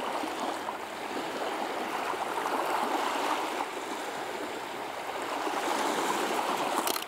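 Water rushes in a continuous, steady wash that fits sea waves breaking, moderately loud and even throughout with no voices.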